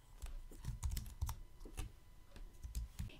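Computer keyboard typing code, with irregular bursts of quick, close key clicks and short pauses between them, no talking.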